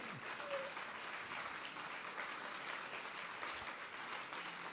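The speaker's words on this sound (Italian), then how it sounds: "magari un applauso si può anche fare" Applause from an audience at the 2019 Turin Book Fair presentation, a faint, steady wash of clapping heard from a distance, with no voices over it.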